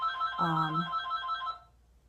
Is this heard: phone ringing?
yes